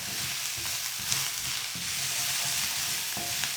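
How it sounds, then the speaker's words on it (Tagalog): Garlic and onion sauté in a pan for chicken kare-kare with coconut milk, a constant bright sizzle up close with irregular low knocks and scrapes of a utensil stirring underneath, no voices. "Gigisa ko lang to hanggang sa lumambot na yung sibuyas."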